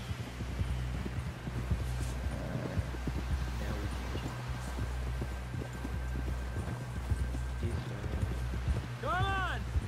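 Hooves of a horse galloping in Red Dead Redemption 2 beat in a steady, rapid clip-clop rhythm across a snowy winter ride, with a continuous low rumble of game ambience throughout.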